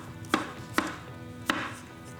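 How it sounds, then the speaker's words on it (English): Leek being chopped with a knife on a cutting board, with three distinct sharp cuts spaced irregularly against a quiet kitchen background, no talking. "Just chop your leek in half."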